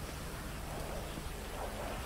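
Rain and stormy weather in the GTA V LSPDFR police mod, a dense, even wash of downpour with a low rumbling undertone, faint and constant throughout with no voices.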